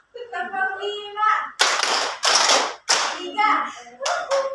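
A group of students clap together in a classroom counting game, several crisp bursts of applause-like claps alternating with a voice calling out numbers.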